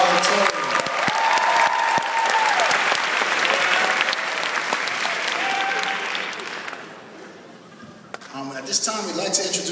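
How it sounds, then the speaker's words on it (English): Graduation audience gives a long, full round of applause for the salutatorian and valedictorian, with dense clapping and cheers under a voice. The clapping fades near the end, then a few claps and voices return. "a round of applause for our salutatorian and our valedictorian"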